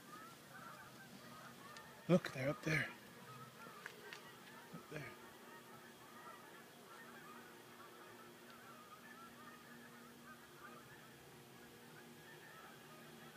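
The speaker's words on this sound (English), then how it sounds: "Hear the geese?" A few loud goose honks burst out close together early on, then fainter calls trail off while a voice speaks quietly over the outdoor hush.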